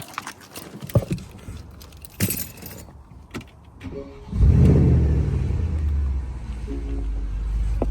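A car engine revs up close, rising into a loud, sustained roar after several seconds of scattered clicks, jingles and knocks, holding a steady throaty drone to the end.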